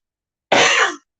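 A single short, dry cough with throat clearing, close and loud, lasting about half a second amid silence.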